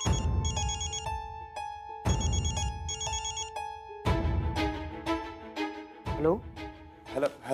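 A telephone rings with a melodic electronic ringtone in repeated bursts, clear and close, followed by louder musical tones and a sweeping effect.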